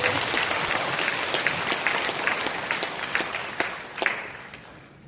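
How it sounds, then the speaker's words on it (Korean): An audience at an Incheon political gathering featuring Hwang Kyo-ahn applauds with dense, steady clapping that swells briefly near the end before fading out. "박수 한번 칠까요?"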